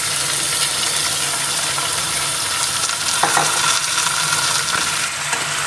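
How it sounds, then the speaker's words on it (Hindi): Mutton fries in ghee with onions for aloo gosht, making a loud, dense, continuous sizzle with occasional stirring scrapes and clicks, with no speech. "ये मटन को हम 6 से 7 मिनट तक इसी घी में फ्राई करेंगे ताकि इसका कलर चेंज हो जाए"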